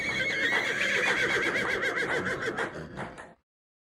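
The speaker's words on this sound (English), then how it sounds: "the air was filled with the songs of the servants and the whinnying of royal horses." Royal horses at a palace courtyard whinny in a long, loud, wavering neigh close by, followed by softer snorting before the sound stops abruptly.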